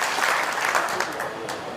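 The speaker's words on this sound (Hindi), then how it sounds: "जोरदार तालियों से स्वागत।" Crowd applause welcoming a speaker at a village panchayat gathering in Samalkha, a dense loud burst of clapping from a large outdoor audience.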